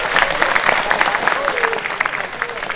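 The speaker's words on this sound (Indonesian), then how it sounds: "Tepuk tangan dulu kita ke Jawa Barat." Dense crowd applause for West Java fills an Indonesian communications minister's talk on school gadget rules, steady and close throughout with a voice speaking over the clapping.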